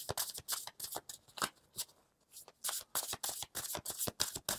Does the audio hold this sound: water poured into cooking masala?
no